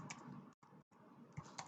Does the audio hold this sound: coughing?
no